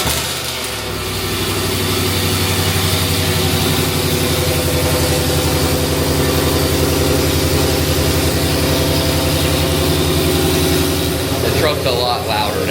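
A 2022 Ford F-150 pickup with added boost idles after a cold start, a steady loud low rumble with a high fast-idle note held close by for several seconds.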